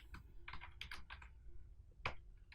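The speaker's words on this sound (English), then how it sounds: "Tab key on the keyboard for the next piece of information" Keys tapping on a computer keyboard while moving between cells in an Excel spreadsheet, a quick run of separate clicks followed by a louder single strike, all close and with no voice over them.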